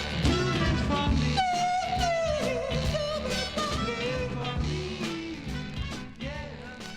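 Soul record from April 1965 plays from vinyl, with a sustained lead vocal line over a full backing band, steady and loud throughout.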